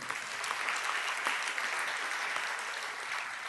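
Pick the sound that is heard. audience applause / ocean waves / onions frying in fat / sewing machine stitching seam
audience applause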